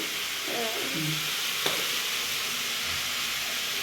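Spices sizzle while frying in a pan in a home kitchen, making a steady broadband hiss that runs throughout, with a brief utensil clink partway through and faint voice-like tones early on.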